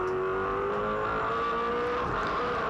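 A Supercar V8 engine on an onboard hot lap at Pukekohe in 2003 drones loudly and continuously from inside the cockpit, its pitch easing slightly under steady throttle.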